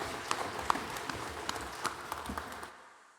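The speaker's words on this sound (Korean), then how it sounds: "영광의 박수를 하나님께 드리겠습니다." A church congregation applauds during a Sunday worship service, a sustained wash of many hands clapping at moderate distance that fades out near the end.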